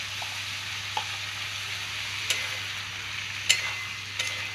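Ginger paste and cumin powder frying in a pan for ghugni, giving a soft steady sizzle with a low hum beneath and a few sharp scrape-like ticks as it is stirred.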